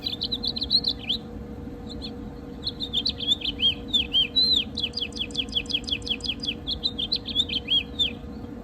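Recorded backyard bird songs play from a sound book, a series of bright, quick, repeated chirps and trills that come in bursts with short pauses, over a low steady hum.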